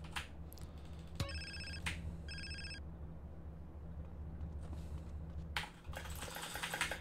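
Two short electronic phone rings from the game Grand Theft Auto: San Andreas sound in quick succession amid quiet room noise, with a few clicks and taps before and after.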